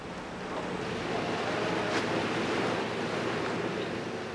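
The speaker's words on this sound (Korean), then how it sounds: "파도가 높아 배까지 흔들리는 상황." High sea waves wash and roar steadily around a crab fishing boat at sea, a continuous loud surge of water and wind with no talking.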